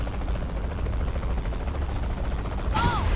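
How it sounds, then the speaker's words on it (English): A helicopter in the Saints Row The Third video game hovers as a steady, fairly quiet rotor rumble, with a brief voice sound right at the end. "Oh god, there's a chopper shooting me."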